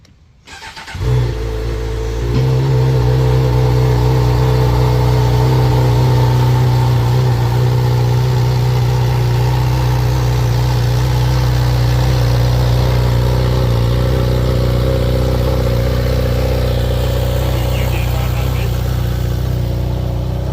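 A motorbike engine catches about a second in, then runs loud and close at a steady, even idle with a rumbling hum for the rest of the stretch.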